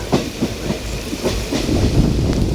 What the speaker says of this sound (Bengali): এখন ট্রেনে করে বাড়ি যাচ্ছি